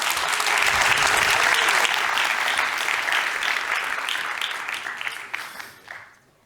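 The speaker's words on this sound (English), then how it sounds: "Please give him a warm applause." A lecture audience gives a warm round of applause for a speaker coming to the stage, full dense clapping that holds steady and then thins out and fades over the last second or two.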